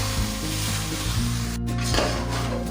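Okra sizzles steadily in a pan over a high flame while it is stirred, giving a continuous close frying hiss with a low background hum and brief stirring scrapes.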